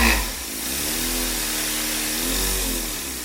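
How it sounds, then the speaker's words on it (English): A small Stirling steam engine kit driven by a light puff of compressed air from an air gun runs with a steady, close, buzzing mechanical whir that holds for a few seconds, with no talking over it. "you can see that the engine is actually running at the moment"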